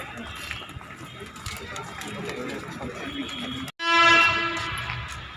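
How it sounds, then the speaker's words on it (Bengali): A train pulls into a railway station, its low rolling rumble steady under crowd noise until a loud, sustained horn blares close by near the end. "ট্রেন ঢুকে গেছে, এই ট্রেনটা তো মিস হয়ে যাবে"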